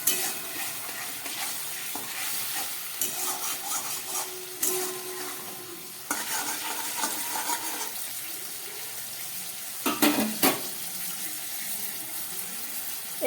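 Pointed gourd korma with yogurt is stirred and sautéed in a pan, giving a steady soft sizzle with scraping spatula strokes and a brief louder clatter near the end, with no voices.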